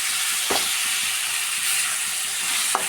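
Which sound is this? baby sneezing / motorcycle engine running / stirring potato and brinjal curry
stirring potato and brinjal curry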